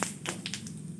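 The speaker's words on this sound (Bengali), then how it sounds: "জিরেগুলো ফুটছে" Cumin seeds splutter in hot oil in a home kitchen, giving a few sharp, quick pops and crackles over a faint steady sizzle, close and quiet.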